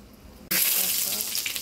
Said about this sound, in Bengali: দেখো মা আস্তে আস্তে বড়াগুলো ছাড়ছে তেলের মধ্যে